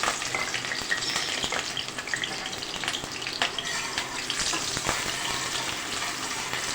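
Coarsely chopped onion frying in hot oil with asafoetida for kadhi pakora gives a steady, dense sizzle and crackle throughout, with a few louder spits and faint stirring, and no talking.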